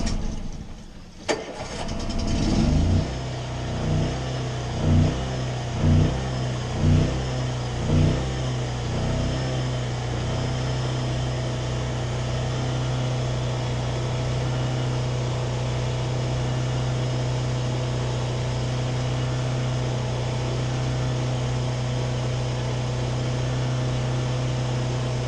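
A boat's engine that has sat unused for a while cranks in a few rhythmic bursts, catches, and settles into a steady, loud idle that holds for the rest of the stretch, with the generator also running.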